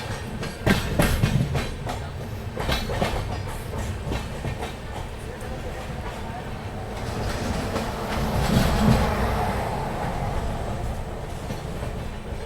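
Duronto Express train on the Delhi to Ernakulam run passing another train, a continuous rolling rumble with clickety-clack wheel beats near the start and a swelling rush of passing noise later on.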